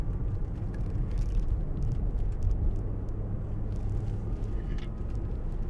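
A 2005 Jaguar XJ 2.7 TDVi diesel driving uphill on a bumpy road, heard from inside as a steady low engine and road rumble with occasional knocks and thumps from the rough surface.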